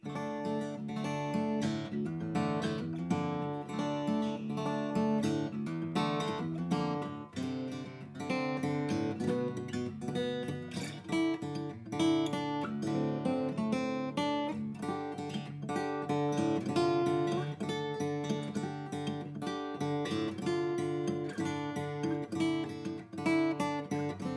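Acoustic guitar strummed and picked steadily with dense, ringing chords and no voices, continuing at an even loudness throughout.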